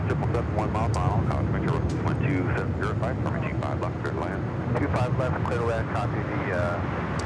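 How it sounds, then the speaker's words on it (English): A United Airlines Boeing 737-800 takes off, a steady jet roar underneath continuous talk that stays prominent throughout. "That is United Airlines 1017 taking off to Phoenix on the"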